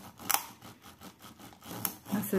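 Small hard diamond painting beads clatter and rattle in a few quick bursts, fairly close, with light scraping between them.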